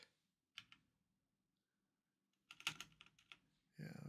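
Short bursts of typing on a computer keyboard connected to a virtual machine, quick clustered key clicks close by separated by silent gaps, with a faint murmur in the background.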